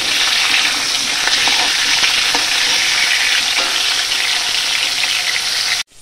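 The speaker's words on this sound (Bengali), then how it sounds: "এই আলুগুলো আগে একটু লাল লাল করে ভেজে তুলে নেব" Potatoes frying in hot oil in a wok, a loud, close, continuous crackling sizzle with occasional stirring scrapes, ending abruptly.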